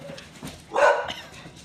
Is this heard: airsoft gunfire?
no